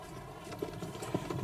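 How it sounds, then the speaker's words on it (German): Horses walking a mountain path in Java, their hooves clip-clopping in a quiet, uneven rhythm of light knocks, close and fairly faint over a low steady background. "Die Pferdchen sind auf diesen Pfaden trittsicherer als die Besucher."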